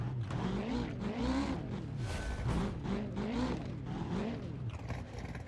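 An off-road Ultra4 buggy in the BeamNG video game crawling over rocks, its engine revving continuously in repeated rising and falling surges at steady moderate loudness, with no talk.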